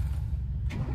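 A 1994 Toyota Kijang Super G 1.5 with about 216,000 km runs near and steady, its low engine rumble constant through the second with a brief higher burst partway.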